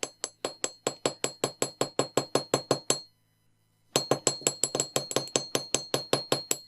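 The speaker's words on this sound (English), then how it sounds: "Then we can hammer both of those wires" Rapid, evenly spaced metallic hammer taps on wire for wire-wrapped earrings ring out in a quick series, pause for about a second, then resume at the same brisk rhythm.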